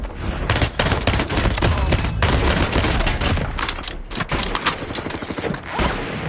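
Rapid gunfire from a shooter video game fills the stretch, dense bursts of automatic shots with short gaps, loud and close.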